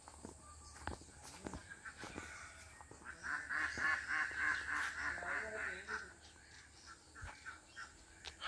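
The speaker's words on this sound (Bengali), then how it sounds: "হাঁসেরা সাঁতার কাটছে।" Ducks swim in a village pond in rural Bangladesh, giving a run of nasal quacks that clusters in the middle and stays fairly faint, with scattered rustles and soft thuds around it.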